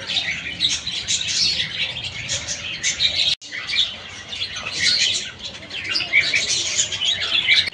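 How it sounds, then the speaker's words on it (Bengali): Caged birds at Cossipore Udyanbati garden in Kolkata chirp and tweet in dense, overlapping bursts, with dove-like cooing and a brief cut partway through. "পাখিদের কিচিরমিচির আওয়াজটা মনে যেন বেশ আনন্দ এনে দিল"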